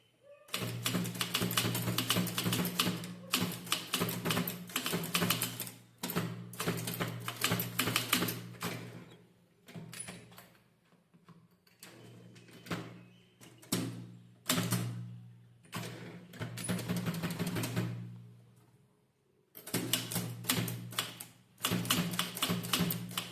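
A mechanical typewriter clacks out a line of Tamil letters in rapid bursts of sharp keystrokes. The runs break off for short pauses, and a few isolated strikes fall in between, all close and without speech.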